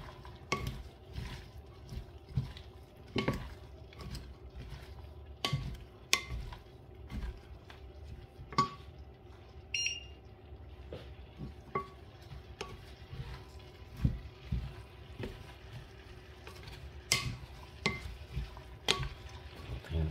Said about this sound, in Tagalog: Halo natin ng maigi.